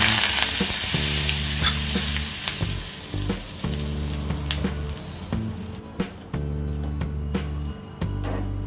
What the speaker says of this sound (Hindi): इसमें डालेंगे ये हींग और ये कड़ी पत्ता।